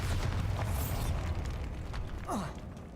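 A Bombarda spell blast in Hogwarts Legacy, with a loud rumbling boom and crumbling debris right away, then a whooshing sweep near the end.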